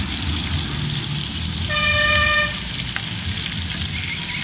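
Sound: green chillies and curry leaves frying in oil

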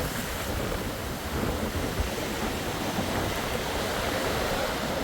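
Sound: sea water among rocks on a beach

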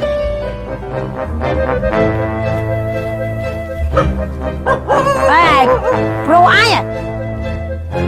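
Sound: dog barking

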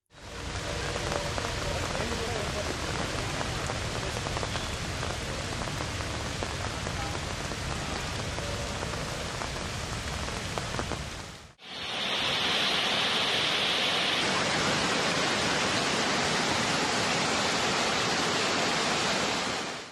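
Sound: heavy rain and floodwater flowing on roads in Hyderabad

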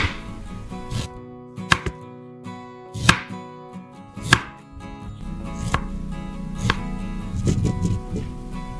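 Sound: chopping ginger with a knife

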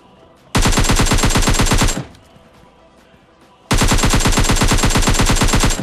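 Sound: gunfire in video game PUBG Mobile Lite

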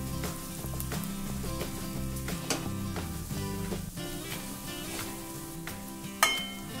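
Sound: turmeric, asafoetida and coriander powder sautéing in a pan

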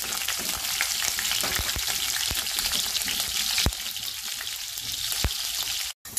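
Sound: cardamom, jeera, green chili and shallots frying in hot oil

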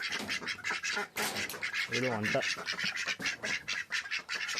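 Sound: ducks quacking

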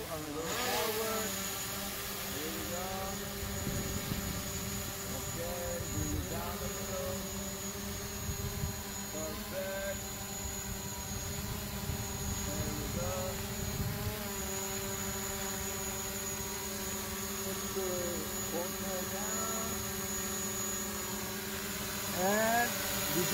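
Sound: fishing drone hovering over water

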